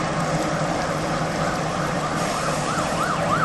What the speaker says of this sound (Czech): teďka jede sanitka určitě